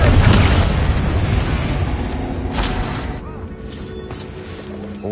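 Confringo explosive fire spell in Hogwarts Legacy, opening with a loud, near boom that decays over a few seconds into a rumbling tail, with a second fainter burst partway through.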